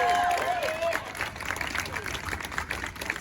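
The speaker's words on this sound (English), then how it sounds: "Let's get another hand of applause to all the speakers" Outdoor crowd at a faculty rally applauds and cheers for the speakers, a lively burst of clapping mixed with shouts and voices, strongest at the start and continuing under chatter.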